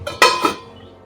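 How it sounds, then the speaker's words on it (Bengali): A metal lid is set down on a cooking pot of potato curry with one sharp, ringing clank and a softer second touch that fades quickly. The sound is close and isolated. "এবার ঢাকা দিয়ে দেবো, একটু ঝোলটা ফুটুক।"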